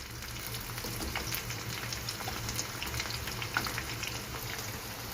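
Chicken pakodi with cashews fries in hot oil at a roadside-style stall, a steady bubbling sizzle with faint crackles, close and even throughout.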